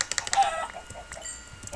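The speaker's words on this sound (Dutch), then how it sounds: "Oh, maar ook een kip." A chicken in the video game Minecraft gives a few quick, faint clucks, mixed with light keyboard tapping.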